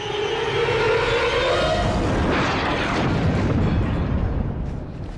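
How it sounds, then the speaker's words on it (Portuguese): A loud, rumbling explosion on top of a bunker rolls out and lingers as a heavy, roaring wash, with a droning aircraft-like hum underneath. "De repente, ouço uma explosão em cima do bunker."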